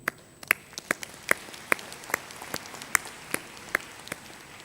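A small, sparse scattering of claps from a graduation convocation audience, individual hand claps spaced irregularly and fairly faint, no talking over them.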